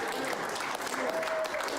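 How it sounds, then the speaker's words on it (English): Faint, steady applause from a crowd, played back at low level, a continuous wash of clapping with a brief tonal sound near the end. "That's like real applause."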